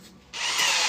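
A power drill whirs up to speed in a short, loud burst while setting a bit for a candle-making project, its steady motor whine starting partway in and holding close and alone.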